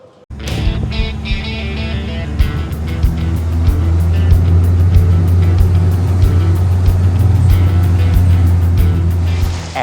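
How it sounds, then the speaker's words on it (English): An open-air taxi in Port Elizabeth, Bequia, starts up and drives along, its engine a steady loud rumble with wind and road noise throughout, no talk. "now we're back in Port Elizabeth and on our way in an open-air taxi"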